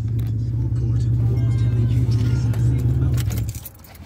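A car driving through an apartment parking lot, its low engine hum close and steady for several seconds before fading off, with rattling and faint voices mixed in.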